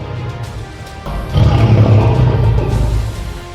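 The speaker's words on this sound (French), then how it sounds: "Il s'approcha d'une caverne, d'où provenait un énorme rugissement." A lion roars from its cave, a deep, loud rumbling growl that swells midway and holds with rough, grinding texture before easing slightly.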